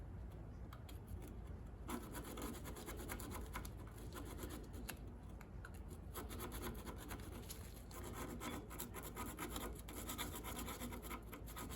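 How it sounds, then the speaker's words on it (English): A screwdriver tip scrapes rust off a stuck brake caliper pin from a 1994-1996 Chevy Impala SS or Caprice 9C1, a steady, close, continuous rasping and rubbing that runs without pause and without voices. "Use a screwdriver like I'm doing here. You just want to scrape off the rust."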